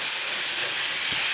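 Beef cooking through in a pan for a beef madras, a loud, steady broadband sizzle and hiss with no talking.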